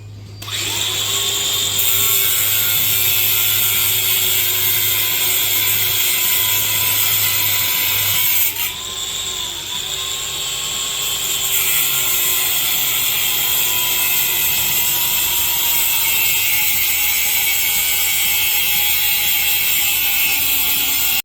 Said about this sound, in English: we're just going to work on cutting this link right here, so that way we can get rid of the extra stuff